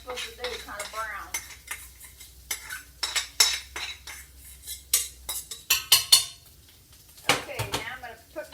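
Thick gumbo going into a big pan that is browning on the bottom, heard as clattering utensil and pot sounds with scraping and stirring, light sizzle underneath, and a few sharp metallic clinks.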